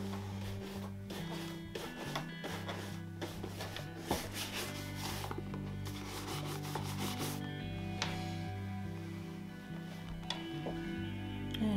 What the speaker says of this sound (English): We'll brush both of these off and see how they look.